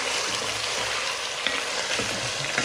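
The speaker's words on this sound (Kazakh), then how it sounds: "Мінекей қызып тұрған майға бірінші жуа емес қарынды салатын боламыз." Cleaned tripe sizzles and crackles in hot oil in a pan, a dense, continuous frying hiss with small pops and no voices.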